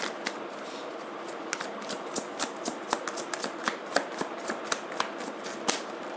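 Tarot cards shuffled by hand, a steady soft riffling hiss broken by crisp repeated flicks and snaps as cards are cut and drawn, close and fairly quiet with no talking.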